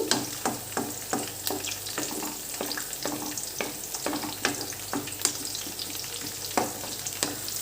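Amaranth leaves fry in a pan with a steady sizzle, while a spatula scrapes and stirs in regular strokes, close by.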